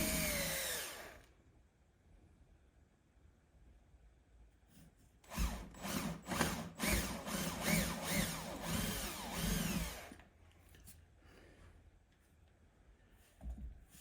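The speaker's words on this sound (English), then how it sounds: "Just drill a couple holes to put the wires through." A power drill whirs in two bursts, drilling holes to pass wires through for dwarf signal lights, a short one at the start and a longer grinding run in the middle, with quiet pauses between.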